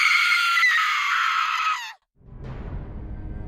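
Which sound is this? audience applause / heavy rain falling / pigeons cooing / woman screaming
woman screaming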